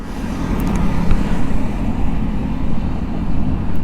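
A Hero Xpulse 210 motorcycle's exhaust drones steadily while riding on tour, a loud, continuous low rumble blended with wind and road noise throughout.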